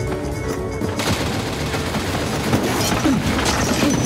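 Dense bursts of gunfire ring out in an arcade-style VR shooter as shots are aimed at a gas main, a rapid, loud rattling volley with a sharper impact near the start and no voices.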